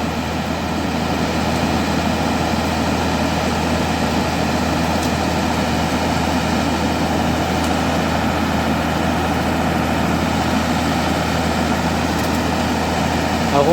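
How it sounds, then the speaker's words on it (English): A truck engine runs steadily at idle after starting on a mountain highway damaged by a cloudburst, a constant loud low rumble with no breaks throughout. "luckily he is able to start his vehicle engine."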